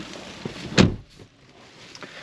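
A 2023 Dacia Duster's car door opens with a short mechanical clunk and latch release near the middle, followed by faint handling noises in a quiet interior.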